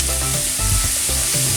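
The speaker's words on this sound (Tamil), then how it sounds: "பாருங்க, வெங்காயம் கொஞ்சம் நல்லா பொரிஞ்சிட்டுது." Onions frying to golden brown in a pan with curry leaves about to go in, a loud, dense sizzle that runs steadily throughout.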